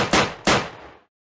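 Two sharp gunshots crack in quick succession, each ringing out with a metallic decay before silence.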